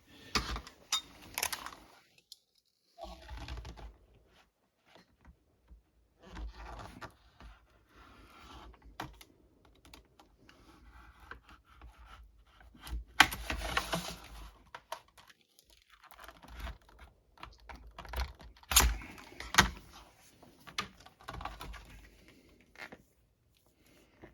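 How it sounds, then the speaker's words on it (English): Razor blade slicing through a sealed hard plastic CGC comic slab, using a backer board as a guide, heard as close, quiet scraping and crinkling cuts in irregular bursts with pauses between. "So let me get a razor. We'll cut that open."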